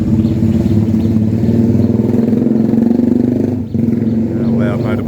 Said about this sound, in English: A loud motorbike going by.